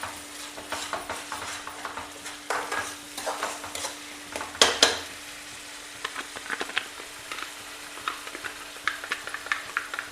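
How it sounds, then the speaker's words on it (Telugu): Fish curry with fresh coriander is stirred in a pan, with irregular spoon clinks and scrapes against the metal over a faint background sizzle. "కొత్తిమీర కూడా వేసేస్తున్నాను ఇప్పుడు కలుపుతున్నాను"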